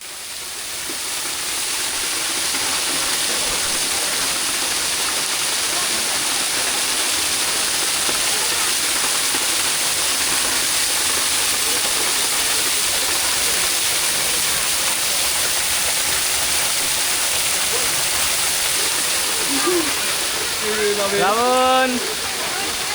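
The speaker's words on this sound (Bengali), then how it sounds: "কৃত্রিমভাবে এই ঝর্ণাটা চালু রাখা হয়েছে" Artificially run waterfall at Cox's Bazar, a steady broadband rush of falling water that continues evenly throughout, with a brief voice near the end.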